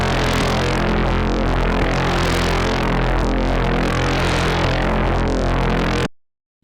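Strudel FM synthesis patch with feedback routing, FM1 fed back into FM3, gives a loud, dense, distorted droning hum with throbbing, sweeping timbre for about six seconds before cutting to silence.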